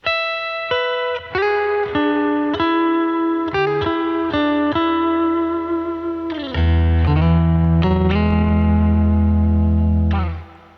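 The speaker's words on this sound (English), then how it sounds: "It's a nice, beautiful reverb." Electric guitar played through a CTC Mirage reverb pedal in stereo with the shimmer side off, single notes and chords ringing out with a lush reverb tail, then a sustained, swelling chord that fades out at the end.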